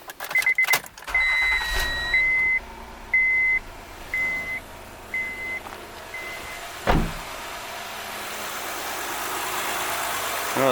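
A Honda Odyssey V6 engine idling after its timing belt tensioner has been replaced, starting with a crank and catch, then a steady hum under a repeating series of electronic chimes, with a brief whoosh midway.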